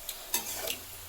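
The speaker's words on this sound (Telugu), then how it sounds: "పెట్టుకున్న తర్వాత అండి ఆనియన్ ఫ్రై చేసుకోవాలి" Onions frying in a pan, a brief steady sizzle with a few soft stirring scrapes, close by and fairly quiet.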